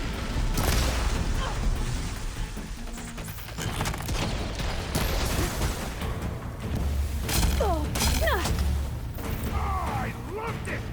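Cannon fire in Horizon Forbidden West: Burning Shores rumbles through a dense, continuous battle din of booms and crashes, with chirping machine cries and voices mixed in throughout.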